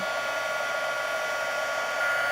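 A heat tool blows a steady, loud whoosh as it melts embossing powder on the words of a mermaid-stamped card, continuous and alone throughout.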